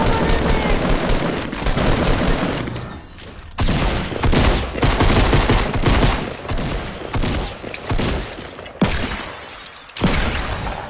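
Fortnite squads match with dense bursts of automatic gunfire and rapid shots, loud and nearly continuous with brief pauses, some breaking impacts mixed in.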